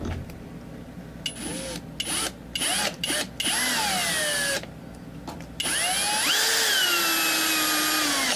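A power tool turns the tuner post of a Fender Telecaster in short whirring bursts separated by brief gaps, then settles into a longer, louder continuous run with a rising pitch near the end.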